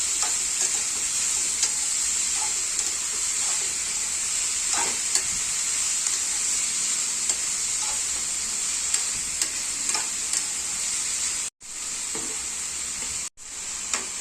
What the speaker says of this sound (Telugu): టమాటాలు వేసుకొని కలుపుకోవాలి